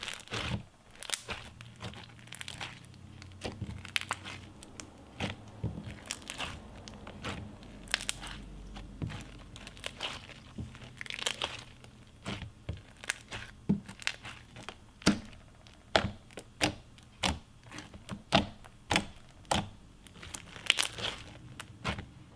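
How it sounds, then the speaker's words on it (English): Crunchy slime packed with beads squished and pressed by hand, giving a steady stream of close, quiet crackles and crisp pops that keep a loose rhythm. "the beads add a really nice layer of crunch"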